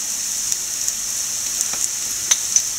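Shallots fry in a pan with turmeric powder while coconut and split green gram wait to be added; a thin, even sizzle runs throughout, broken by occasional soft ticks and pops, close and without speech.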